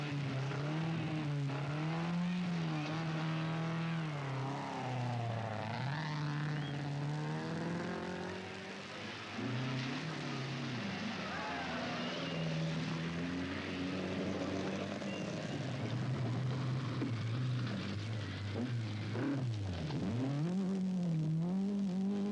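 A 1979 rally car's engine, restarted after being dried with dewatering fluid, revs and drives off, rising and falling in pitch through gear changes, steady and fairly close with no talk.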